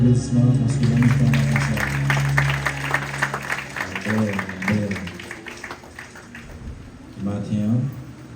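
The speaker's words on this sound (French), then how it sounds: "Baille-moi un applaudissement" Clapping from a church congregation, mixed with voices and a sustained sung or spoken tone at first, the applause rising and falling in uneven bursts and returning briefly near the end.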